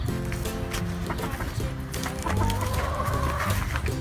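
Chickens cluck and murmur inside a farm chicken coop, overlapping close calls in a busy, continuous chatter with some rustling and a rising squawk near the end.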